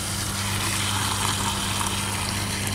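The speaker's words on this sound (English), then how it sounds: "Fill the bucket up with water so the stuff in the leaves can get in the water." Water runs steadily into a bucket packed with willow leaves, a constant close rushing and gushing with no break for the whole stretch.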